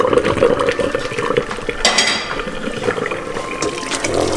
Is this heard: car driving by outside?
no